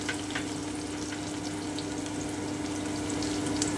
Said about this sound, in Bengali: আমি রসুনটা দিয়ে দিলাম, আমি পেঁয়াজটা দিয়ে দিচ্ছি।